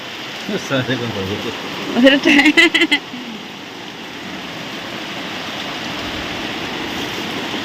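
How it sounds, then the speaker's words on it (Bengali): Heavy rain pours down in a steady, dense broadband roar, with a voice talking briefly over it near the start before the downpour carries on alone. "সারাদিন বৃষ্টি হচ্ছে শুধু বৃষ্টি হচ্ছে বৃষ্টি আর কমছে না"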